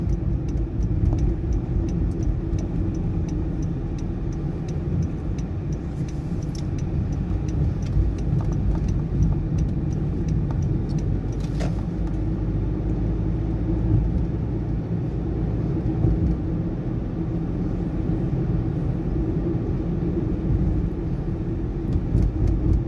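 A 2019 Honda Jazz is on the move, and inside the cabin a steady low engine and road rumble drones evenly throughout.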